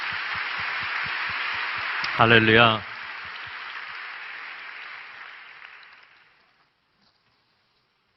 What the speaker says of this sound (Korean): 그런 놀라운 일을 행하실 하나님께 영광의 박수 올려드리겠습니다.